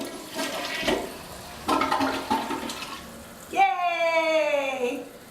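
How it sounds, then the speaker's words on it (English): A newly installed toilet flushes in a small farmhouse bathroom, a loud rushing gurgle and swirl after a few seconds of people talking nearby. "this is our first official flush in the house."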